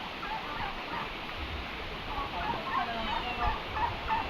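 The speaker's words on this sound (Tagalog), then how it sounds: "So ito may mga pabo tayo." Several turkeys gobbling in short warbling bursts amid a steady background hiss, moderately close, with a faint voice in the mix.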